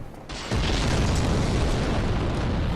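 In Dark Souls Remastered at Sen's Fortress, an enemy's thrown bomb bursts into a loud, sudden boom after a brief quiet moment, then rumbles on in a sustained, roaring blast with no voices.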